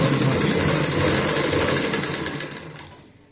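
A sewing machine stitches a garment sleeve in one loud, steady run of rapid needle clatter that tapers off near the end, with no talk.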